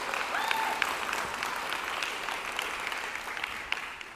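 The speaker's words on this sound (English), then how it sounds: "Can we just give them a quick round of applause?" An audience at an empowerment event gives a quick round of applause, a steady, moderately distant patter of many hands with a few sharper claps and faint crowd noise.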